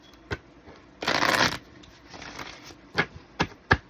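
Oracle cards being shuffled: a short, faint tap, then a dense riffling burst of about half a second, a softer rustle after it, and three sharp taps near the end. No voices are heard.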